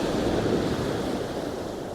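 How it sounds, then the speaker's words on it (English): Ocean surf washes steadily onto a shore, a constant broadband rush of waves with some wind noise on the microphone, loud and unbroken throughout. "Capturing the waves."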